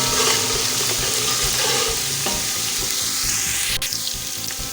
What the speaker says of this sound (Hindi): और अब हम इसमें नमक और ज़ीरा डाल देंगे, इसको भी फ्राई कर लेंगे।